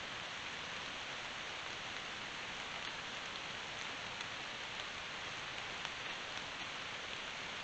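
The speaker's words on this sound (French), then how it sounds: "Je reste un peu à l'abri, il pleut." Steady rain falls near a forest cemetery, an even, dense hiss of drops on surfaces that holds constant throughout, with no voices.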